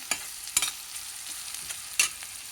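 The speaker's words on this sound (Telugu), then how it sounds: "ఇది కొద్దిగా వేగింది కదా, ఇంకొంచెం వేగనిద్దాం" Masala spices frying and being stirred in a pan for chole, soft continuous sizzle with a few scraping stir strokes, close and quiet.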